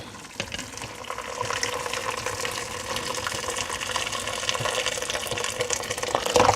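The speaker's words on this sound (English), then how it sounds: "I'm gonna plug this back in and pour this water on." Water pours and gushes steadily into a pot on a plugged-in cooker in a home kitchen, the splashing growing slightly louder toward the end, with no talking over it.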